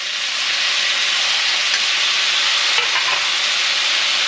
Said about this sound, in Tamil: நல்லா வதக்கிக்கலாங்க.